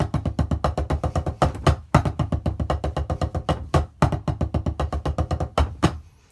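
Tenor drums play a fast, steady rhythm of crisp, closely spaced strokes, repeating in short patterns with a few louder accented hits, played alone.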